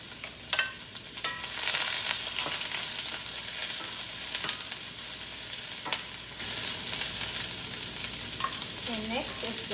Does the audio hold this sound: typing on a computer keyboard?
no